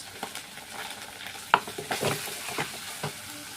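Cumin paste and tomato paste fry in a pan with a soft sizzle, punctuated by scraping stirs and a sharp clink of the spoon, moderately close and with no voices.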